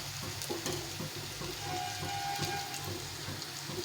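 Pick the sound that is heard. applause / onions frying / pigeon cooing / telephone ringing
onions frying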